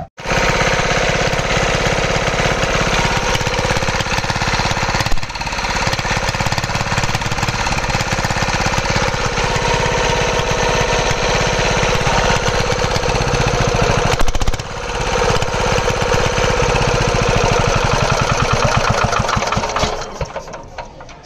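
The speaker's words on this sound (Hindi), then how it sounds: "तो दोस्तों हमारा जो ये इंजन है बिल्कुल परफेक्ट ही स्टार्ट हो गया, कोई दिक्कत नहीं आई।" A repaired China-model diesel engine runs steadily for the whole stretch, a loud close chugging clatter with two brief dips in rhythm, no voices over it.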